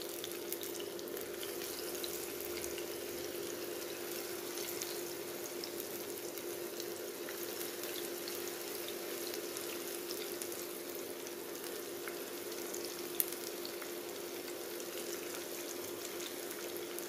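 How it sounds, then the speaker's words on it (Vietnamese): Jackfruit pieces fry in hot oil with a steady, even sizzle and crackle that holds at a moderate level throughout, with no talking. "bây giờ mình sẽ chiên sơ mít nha"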